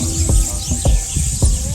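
Birds call at a beach in Curaçao where colorful birds and chickens roam. Short chirps repeat over a low, throbbing rumble of background noise.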